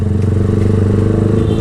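Motorcycle with an open muffler idling up close, a loud, low, throbbing exhaust burble with a steady rapid pulse.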